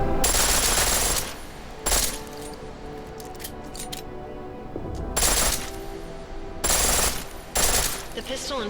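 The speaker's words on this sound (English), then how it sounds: "The pistol in full auto will take down targets fast, but it'll burn through." Rapid bursts of pistol fire set to full auto in Deus Ex: Mankind Divided, several short, harsh rattling volleys separated by quieter gaps with softer mechanical sounds.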